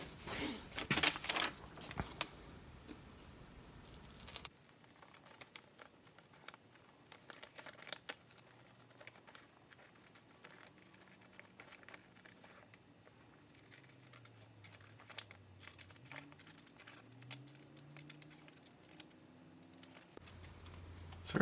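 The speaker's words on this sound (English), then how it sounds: "So I'm going to go ahead and cut this out now." Paper crinkles and crumples as a pattern for a 57 Chevy fender patch is cut out, with louder rustling at the start followed by quiet, close snipping and handling noises.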